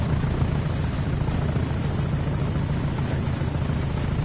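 Class 37 'chopper' diesel locomotive in a train simulator game, hauling HEA wagons and PCA tanks on Tees Valley freight 6E10, thrashing at full power with a steady, loud, throbbing engine drone that carries unbroken throughout.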